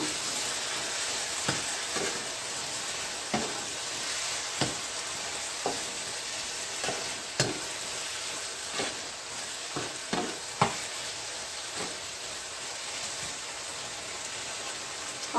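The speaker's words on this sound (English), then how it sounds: "when my pepper is frying" Peppers frying in a pan, a continuous bright sizzle with occasional clicks and scrapes of stirring, steady and close with no talking.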